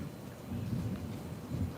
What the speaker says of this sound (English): There's some more lightning coming through.